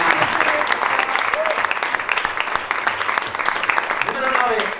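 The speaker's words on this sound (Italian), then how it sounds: "gli facciamo un applauso doppio perché si è laureata oggi" Audience applause at an Italian women's volleyball club season presentation in Taglio di Po, dense uneven clapping that runs throughout, with voices and cheers mixed in over it.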